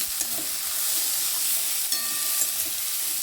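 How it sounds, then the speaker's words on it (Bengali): Boiled banana stem mixture is stirred in a hot pan, with a steady close sizzle and hiss throughout and occasional scraping knocks of the utensil against the pan. "সিদ্ধ করে এবার লাড়াচাড়া করি"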